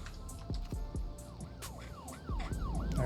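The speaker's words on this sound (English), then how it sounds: "we should already have the ambulance leaving here shortly" An ambulance siren from the Cities: Skylines 2 game wails in repeated rising and falling sweeps, moderately loud, over a busy bed of traffic and game sounds.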